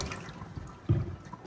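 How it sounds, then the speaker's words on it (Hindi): Water is poured around the sides of a strainer to rinse strained almond mixture for almond sharbat, a soft trickle that swells into a brief louder splash near the end. "हम डालेंगे पानी ऐसे, साइडों से"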